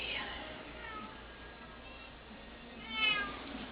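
Indoor house cats meow, one clear cry at the start and another louder meow near the end, over a steady low background hum.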